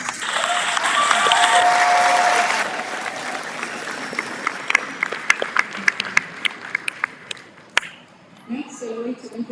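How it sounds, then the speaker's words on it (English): Audience applause for student speakers at a college commencement ceremony swells loudly for a couple of seconds, then thins into scattered individual claps that fade out. "Let's give our student speakers another round of applause."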